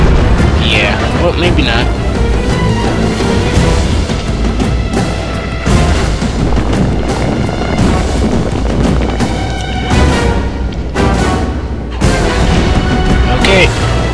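Siege engines in Rome Total War pound a building with heavy, continuous booming impacts and crashes, loud and dense throughout, while someone speaks briefly over the barrage.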